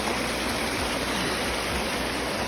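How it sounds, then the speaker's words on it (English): A stream of rushing water splashes over rocks along a trail above falls on Hurricane Ridge, a steady loud broadband roar with no break and no voices. "we got rushing water all around us, splashing over rocks"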